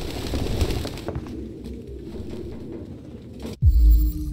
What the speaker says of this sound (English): Pigeon everywhere.